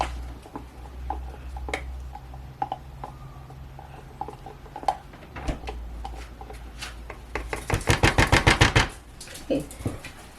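Soap batter being scooped out of a container: soft scraping and clicking taps under a low hum, ending in a quick, louder burst of rapid scrapes.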